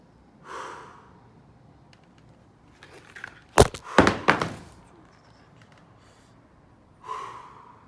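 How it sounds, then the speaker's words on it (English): Soft breathing during a yoga stretch: a gentle breath at the start and end, with a cluster of thuds and bumps from body movement in between, heard close and without speech. "And just breathe."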